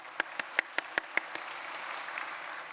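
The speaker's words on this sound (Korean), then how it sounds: "오늘의 주인공들인 우리 어린이, 청소년, 그리고 청년들을 위해서 큰 축복의 박수 보내드리겠습니다" A church congregation gives a handful of sharp, scattered handclaps for the children and youth at a worship service, then settles into faint room noise; the claps are distant and quiet.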